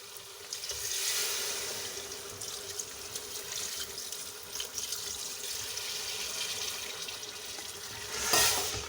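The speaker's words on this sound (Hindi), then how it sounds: "अब मैं इसमें 4 कप पानी डाल रही हूँ।" Water pours steadily into a pot of aloo gosht curry, a continuous splashing hiss for several seconds with a sharper sizzling burst near the end.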